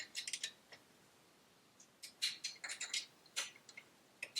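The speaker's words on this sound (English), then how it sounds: "Tighten up these little Allen keys." Small Allen key clicking and ratcheting while tightening AN line fittings on a Radium catch can in a Nissan engine bay, with faint intermittent ticks in short clusters and quiet gaps between.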